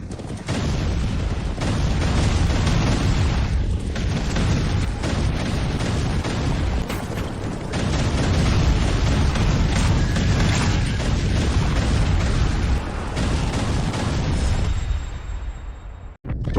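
Gunfire and explosions fill a battle scene in a Thai-dubbed historical drama as one loud, continuous wash of blasts and bursts that stays dense throughout and cuts off abruptly at the end.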